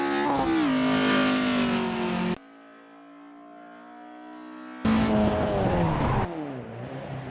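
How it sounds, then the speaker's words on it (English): An Opel Kadett race car slips on a wet track, its engine howling loud and close at high revs, dropping away into a lower steady drone before roaring back with a rising, strained whine. "The Opel slips, but Mig's not letting go. Foot planted on the floor. And he's wrestling with the Kadett to keep traction."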